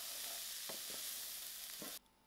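Onions and chana sizzling in a pan as fried snacks are cooked, with a continuous crackle, a few soft stirring knocks, then an abrupt cut to near silence just before the end.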